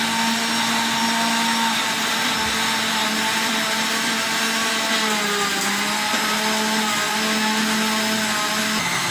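An electric kitchen blender runs steadily at close range, grinding seeds into a batter with a loud, continuous whirring motor hum and gritty churning that holds unbroken the whole time, with no voices over it.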